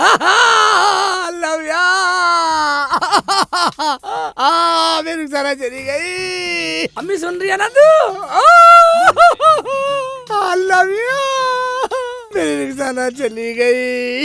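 A man wails and sobs loudly at close range in a comedy sketch, his voice rising and breaking into drawn-out cries as he speaks through the weeping.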